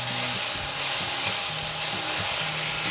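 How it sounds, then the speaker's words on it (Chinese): Shiitake mushrooms stir-fried in a hot oiled pan, a loud continuous sizzle with scraping and tossing, faint background music underneath. "好，現在可以稍微翻炒一下了"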